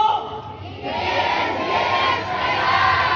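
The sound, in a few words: crowd shouting a chant in Cebu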